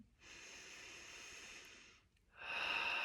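A slow, deep breath drawn in during a guided meditation, a soft airy inhale lasting about two seconds, then a brief pause and a second, stronger breath in, close and with no talking.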